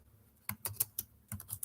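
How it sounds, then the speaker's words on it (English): Computer keyboard keys clack in short irregular bursts, a handful of crisp taps close by at low volume with quiet gaps between them. "I'm typing something at the same time."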